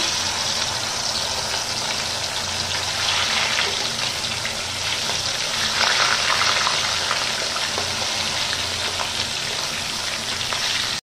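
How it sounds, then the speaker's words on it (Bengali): Pieces of chitol fish sizzle in hot oil in a pan, giving a loud, continuous, rain-like hiss with crackling spits that stays dense and even throughout, with no talking. "এবার আমি একে একে বাকি মাছগুলোকেও সাঁতলে নেব।"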